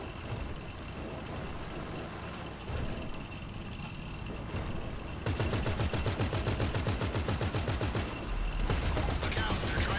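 A front-mounted gun on an APC fires in GTA 5 Online. Rapid, loud bursts of automatic fire rattle over a low vehicle engine rumble, growing dense and sustained through the second half.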